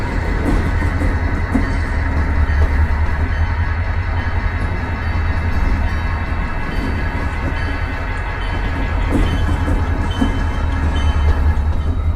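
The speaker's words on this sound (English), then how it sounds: "P31 is going to drop off the inbound train" Steady rumble of an HO-scale model train rolling along the track, continuous and fairly loud, with faint rail clatter and no voices.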